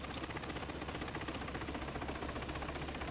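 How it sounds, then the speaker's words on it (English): A helicopter's engine and rotor drone steadily in the VBS4 simulator, a dense, constant whirring with a fast pulsing beat. "I already hear our helicopter going."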